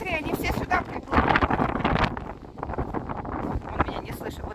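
Strong gusts buffet the microphone outdoors in a park, a heavy, uneven roar and rumble throughout, with people talking underneath the wind noise.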